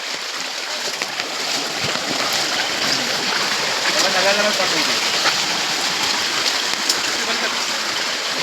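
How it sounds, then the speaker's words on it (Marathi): A small village river flowing at dusk, a constant broadband rush of water close by, with a faint voice briefly audible underneath. "दिस इज नदी. ये छोटा नदा"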